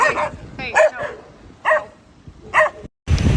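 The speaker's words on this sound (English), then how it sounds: "There's dogs everywhere" Dogs barking on Majuro in the Marshall Islands: four or five loud, close barks and yips come in separate bursts with short pauses between them.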